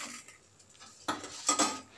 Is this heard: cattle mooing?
no